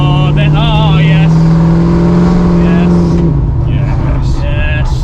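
A V8 engine in a Ford Mustang restomod idles slightly high with a loud, steady, rumbling drone and a faint choppy pulse underneath, captured close with no breaks.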